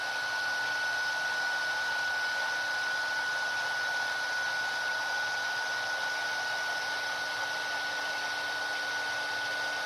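A heat tool blows hot air steadily over embossing powder on paper, making a constant, loud hissing roar with a faint steady tone running through it and no breaks.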